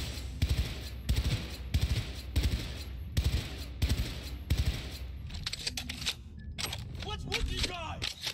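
Automatic gunfire in the video game Cyberpunk 2077, rapid bursts of shots repeating in regular clusters, loud and close, with someone talking over parts of it.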